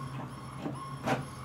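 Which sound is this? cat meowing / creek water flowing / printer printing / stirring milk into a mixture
printer printing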